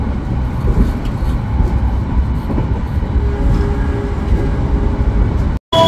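A passenger train rolls past Brebes station, a loud, steady low rumble of wheels and cars close by with no talk, cutting off briefly at the very end.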